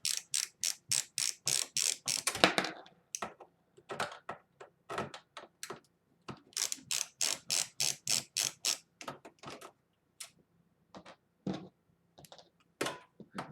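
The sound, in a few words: ratcheting screwdriver with socket removing PC power supply screws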